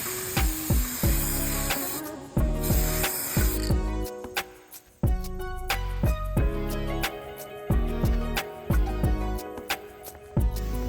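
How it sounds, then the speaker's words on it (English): Black spray paint being applied to the woven seat of a bistro chair outdoors, bursts of hissing spray starting and stopping repeatedly, with clicks and knocks between passes. "that's what I'm doing here, is painting the woven portion of the chair, the actual seating"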